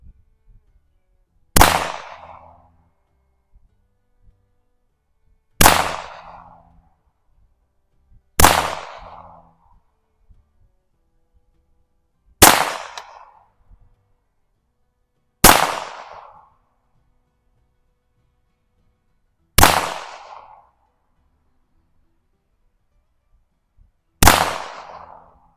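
Seven sharp, loud single shots from a 1948 Colt Woodsman .22 LR pistol fired one-handed, spaced several seconds apart with quiet between each crack and a short ringing decay.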